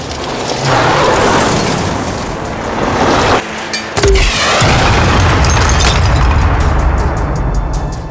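A loud rocket explosion booms in an action drama scene, followed by roaring, crackling blast debris and a brief lull before another heavy rumbling burst, with no voices.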